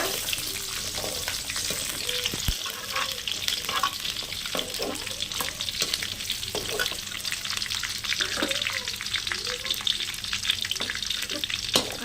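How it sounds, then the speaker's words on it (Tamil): Cloves and curry leaves fry in hot oil in a pan for an egg curry, a constant close sizzle with occasional scraping and stirring clatter, no one speaking. "கிராம்பு போடுறேன் அப்புறம் கருவேப்பிலை போட்டேன் வணக்கி விட்டுருங்க"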